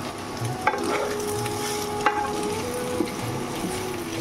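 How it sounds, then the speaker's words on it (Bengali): Potatoes and an egg frying together in a home kitchen pan give a steady, close sizzle with stirring scrapes and a few sharp utensil knocks, no voices. "আর এখানে আলু ভাজবো, একটা ডিম দিয়েছি আর ডিম আলু ভাজা।"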